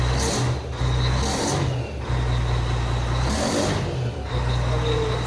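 A Volvo FH12 truck's diesel engine runs up and revs in repeated surges, a deep steady rumble swelling and easing every second or so, loud and close with no talk.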